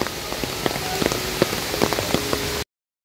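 Steady rain falling at Elephant Falls in Meghalaya, a dense continuous patter of drops with sharper close splats scattered through, no voices, ending abruptly in silence.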